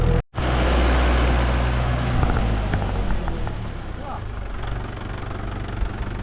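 A tractor engine idles steadily while sand is unloaded, a loud continuous low rumble with a brief dropout near the start and some faint clatter on top.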